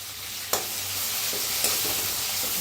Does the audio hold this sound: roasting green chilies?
yes